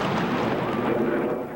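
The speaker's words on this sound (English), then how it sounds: "Seconds later, the missiles hit." Missile strikes hitting a residential area near schools in Ramallah and the Gaza Strip, a loud, sustained rumbling roar of explosions that fades slightly at the end.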